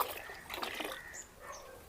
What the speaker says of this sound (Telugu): ఇట్లా మనం బకెట్లో పోసుకోవాలి ఇట్లా నీళ్ళు పోసుకుంటాం కదా